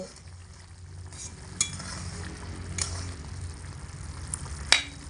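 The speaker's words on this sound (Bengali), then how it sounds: "সাত থেকে আট মিনিটের ফাঁকে ঢাকা চাপাটা খুলে একবার হালকা নেড়ে চেড়ে দেব" Pea ghugni cooking in a pan on medium heat gets a light stir, a soft steady simmering hiss underneath with a few sharp scrapes and clinks of the utensil against the pan, close by and without speech.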